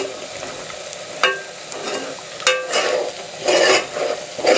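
Onions sizzle steadily in hot oil for a kofta gravy, with a constant frying hiss broken by several stirring scrapes, close and loud.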